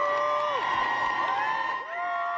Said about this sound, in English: Protesters applauding the representatives as they entered the Tennessee State House right before that vote